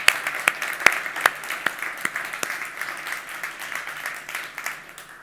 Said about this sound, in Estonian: teeme ühe suure aplausi nendele inimestele, kes on siin Ülemistel kunagi töötanud